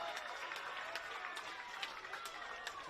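A football crowd at a QAFL match between Redland-Victoria Point and Labrador cheers a goal, a dense roar of cheering and clapping with scattered whistles and shouts, steady and close throughout.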